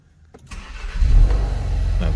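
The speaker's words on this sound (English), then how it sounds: "Now the vehicle starts." A car engine, on a vehicle with an immobiliser pin code, cranks briefly and catches, then settles into a loud, steady running rumble close by.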